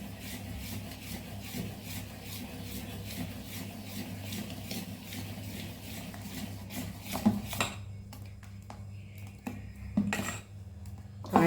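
Ada dosa batter with ground dried red chillies and asafoetida being stirred in a bowl: steady wet scraping and rubbing for several seconds, then sparse clinks and knocks.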